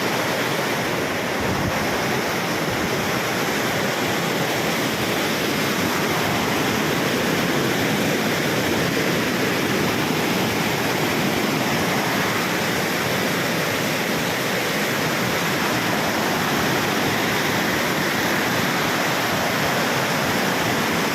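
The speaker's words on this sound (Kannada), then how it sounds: "ಇದು ಆ್ಯಕ್ಚುಲಿ ಕೆರೆ ಕೋಡಿ ಹೋಗ್ತಿರೋ ನೀರಿದು" Water pours over the spillway of Markonahalli dam on the Shimsha river near Kunigal, making a loud, continuous, close-up roar that stays unbroken and alone, with some wind buffeting the microphone.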